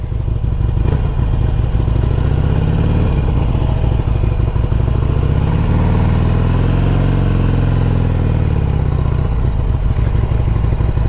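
A 2009 Harley-Davidson 883 Sportster with 16,000 miles runs steadily close by, its engine loud and continuous with a rumbling, slightly rising and falling note throughout.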